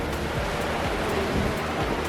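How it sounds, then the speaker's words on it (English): Hail or heavy rain pelting down during a sudden hailstorm, a dense, steady hiss with scattered sharper hits, loud and continuous throughout with no voices. "there's a bloody hailstorm that's come on right now"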